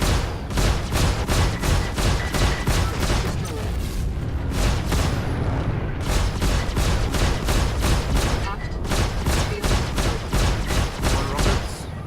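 Missiles and rockets fire in rapid volleys during a Star Citizen Arena Commander space dogfight, loud dense bursts of repeated blasts, with game voice and talk faintly underneath.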